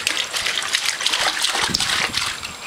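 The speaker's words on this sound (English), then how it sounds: "Ooh, lots of water. Lots of water." Running water gushes and splashes steadily and close by, a bright, hissing stream with small splatters, alone apart from faint background noise.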